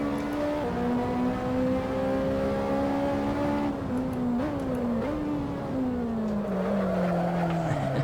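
A Ferrari 458 in Assetto Corsa slides sideways, its tires squealing in a steady, wavering howl that shifts in pitch over the droning engine for several seconds.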